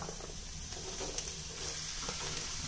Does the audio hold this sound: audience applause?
no